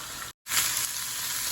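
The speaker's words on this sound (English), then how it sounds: "we're gonna continue to cook until the cabbage cooks down a little bit" Cabbage stir-frying with pasta and vegetables in a hot pan, a steady close sizzle broken by a brief silent cut, then resuming loud and continuous.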